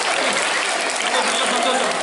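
An audience at a Christmas celebration claps loudly and steadily, a dense, continuous wash of applause with speech mixed in.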